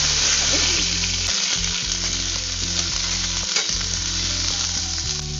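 Boiled soybean chunks fry lightly in oil with nigella seeds, dried red chilli and bay leaf, giving a loud, steady close sizzle and crackle with occasional stirring and no voices.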